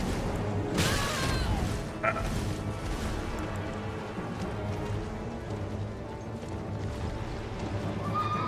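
A horse in the video game Elden Ring gallops and neighs, with rapid hoofbeats and a brief whinny under dense game sound, close and moderately loud.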